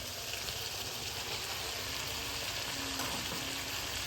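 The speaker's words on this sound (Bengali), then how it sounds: "এবার চর্বি দেওয়ার পরে আমরা 5 মিনিট ভালোভাবে নাড়াচাড়া করে নিব।" Mutton and mutton fat sizzle steadily in a hot pan while being stirred for mutton kosha, a dense, continuous frying hiss heard up close with faint scraping, no talk.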